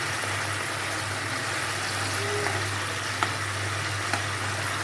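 Hilsa fish pieces sautéing in a pan for a kalonji-tempered hilsa and eggplant curry, a steady soft sizzle with a few faint clicks, no talking.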